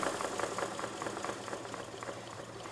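A small Murdoch engine with no connecting rod, its piston pins driving the crank directly, turns slowly and gives off a steady close mechanical churning with faint rhythmic knocks, alone with no talk.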